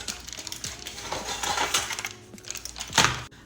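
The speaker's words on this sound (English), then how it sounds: "We are going to cut this up." A knife cuts through a slab of frozen chocolate peanut butter banana bark, giving a rapid series of close, sharp cracks and crunchy snaps with a louder break near the end; no speech.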